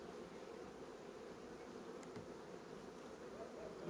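Honeybees buzz around an open hive, a faint, steady, continuous drone from many insects with no talk over it.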